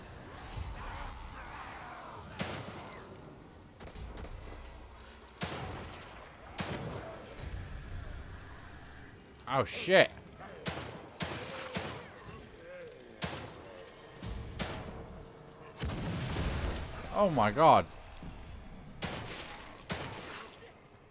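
Gunfire in The Evil Within 2 video game: loud shots ring out one by one at irregular intervals, some in quick clusters, over a quiet eerie backdrop. A man's startled exclamations break in between.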